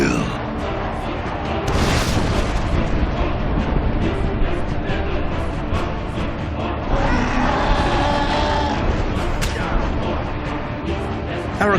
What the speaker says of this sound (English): the orcs' catapults had closed in on the city